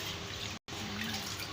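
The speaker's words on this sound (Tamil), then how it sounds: "இப்போ அரிசியை கழுவிக்கலாம்." Ration rice is washed in water: a steady close splashing and sloshing of water fills the clip, broken by one abrupt moment of silence, with no voices.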